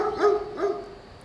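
A dog barks twice in quick succession in the background of an indoor room. Each bark is short and clear, and then a quiet room tone follows.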